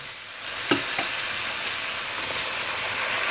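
A blended spice paste with onion and butter hits a hot frying pan and sizzles in a steady close crackle, with a few sharper pops as it is stirred in.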